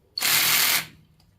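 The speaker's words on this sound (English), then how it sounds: "use the impact of just the drill on the low setting" An electric drill on a low setting working at the engine bolts of a Honda CB750 single-cam turbo engine, one loud close whirring burst of about half a second that winds down.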